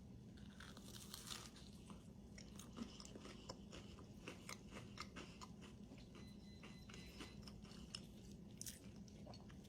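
Someone bites into a home-baked bacon cheese biscuit and chews, giving a steady run of close, crisp crunches and soft mouth sounds with no talking.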